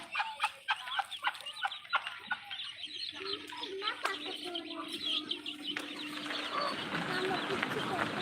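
Several chickens cluck and chatter nearby in short repeated calls, with a steady outdoor background growing louder toward the end.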